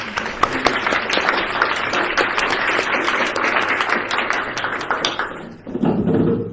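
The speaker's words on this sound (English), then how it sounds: "I want to give Tarek a hearty round of applause for giving us this time." A lecture audience gives a hearty round of applause, a loud, sustained, even clatter of many hands filling the room, tapering near the end as a voice begins to speak.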